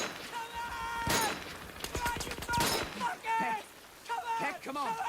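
Bursts of gunfire and rapid shots crackle from a World War II combat scene set on Okinawa in The Pacific series. They come in clusters under frequent shouting voices.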